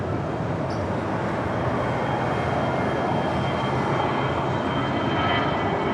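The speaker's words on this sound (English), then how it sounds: "American Airlines flight 2546 heading to Mexico City in an A319." An American Airlines Airbus A319 departs Los Angeles International Airport for Mexico City, a continuous dense jet engine roar at steady loudness, with no voices.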